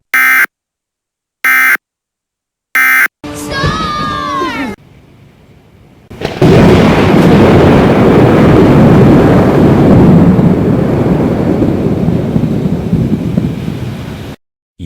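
A thunderstorm sound effect follows three short buzzer beeps and a brief meow-like cry: a rumble of thunder swells into a long, loud, continuous roar of storm and rain lasting about eight seconds.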